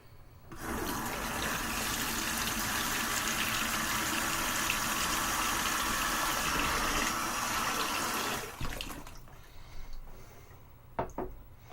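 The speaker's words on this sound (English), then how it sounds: "I forgot to put some water in my bowl" Tap water gushes steadily into a bowl for about eight seconds, then stops, followed by a few faint clunks and handling sounds.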